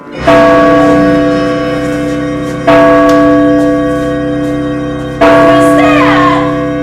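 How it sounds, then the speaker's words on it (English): A large bell struck three times at even intervals, each strike ringing out loudly and decaying slowly before the next. "What was that noise? Giant bell or something."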